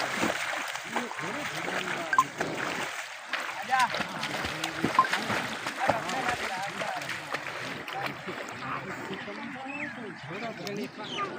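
Two boys wade slowly through deep village floodwater, with splashing and sloshing steps running throughout. People talk close by over the water noise.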